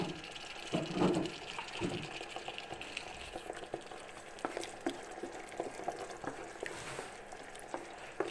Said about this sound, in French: Je vais laisser une petite minute la tomate et mes oignons cuire un peu.